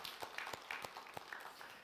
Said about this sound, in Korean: 우리 모두를 위해서 한번 박수할까요?